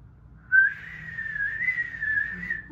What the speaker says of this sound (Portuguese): Ela deu um grande assobio.